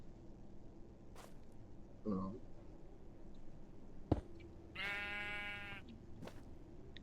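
A sheep in Minecraft gives a single clear bleat near the end, preceded by a brief squeak and a few soft clicks over a low, quiet game background.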